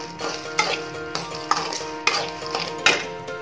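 Chickpeas roast dry in a pan at home, a wooden stir scraping and rattling them in several distinct strokes with a soft continuous crackle beneath, close and moderately quiet.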